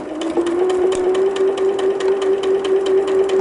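Sewing machine over-stitching a quilt seam on a barn star sampler block, a loud steady motor hum with regular needle ticks, close up and continuous with no talk.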